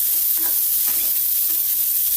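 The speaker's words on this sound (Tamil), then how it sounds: "அந்த வெங்காயமும் அந்த பூண்டோடைய ஈரப்பதம் போகிற வரைக்கும் நம்ம வதக்கி எடுக்கணும்." Sliced onions and garlic sauté loudly in a pan until their moisture cooks off, a dense, constant hissing sizzle with faint stirring underneath.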